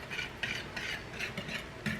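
Dry ingredients whisked into batter a little at a time while baking at home, a quiet rhythmic swishing and scraping of the whisk in a bowl, repeated strokes close by with no voices.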